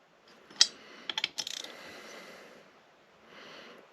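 A ratchet tightening bolts into aluminum threads on a Honda Elite scooter during a big bore install, a sharp click and then a short burst of quick ratcheting clicks, close and quiet, followed by faint low noise.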